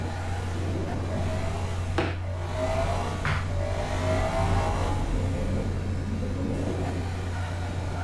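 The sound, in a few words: car engine accelerating through the gears, Gran Turismo video game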